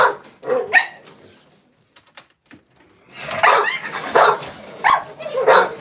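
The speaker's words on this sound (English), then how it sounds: "These dogs making noise at 12:30." Several dogs bark and yip in loud bursts late at night, an early cluster of barks, a short lull with faint yaps, then a sustained run of overlapping barking.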